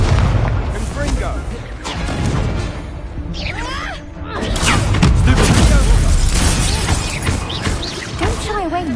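The Confringo explosive spell in Hogwarts Legacy sets off loud booming blasts and crashing impacts in a dense, continuous battle din, with shouted voices over the top.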